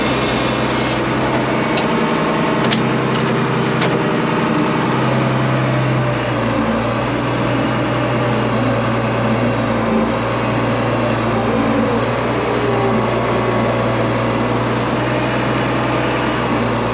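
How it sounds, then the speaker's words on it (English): An International 1066 tractor with a cab and loader runs close by, a loud continuous diesel drone with a low throbbing idle that shifts in pitch around the sixth second, with some rattling. "Good old tractor. We're gonna pull it over here"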